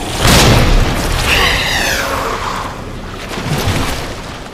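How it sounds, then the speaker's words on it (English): A grenade explodes in Resident Evil 2 with a loud, close boom at the start, then a long rumbling, crackling tail that fades slowly before a second, softer swell near the end. "Maybe another grenade will actually kill him."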